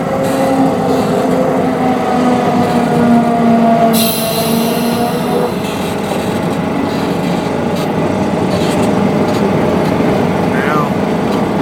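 A grandscale ride-on railroad train crossing a small wooden trestle, its wheels rumbling and squealing loud and close, and a voice talks over the noise.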